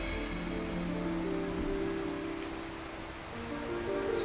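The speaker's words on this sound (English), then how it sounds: "rain already" Rain falls in the video game Windbound, a soft, even hiss of drops on the surface that continues steadily without breaks, fairly quiet and alone.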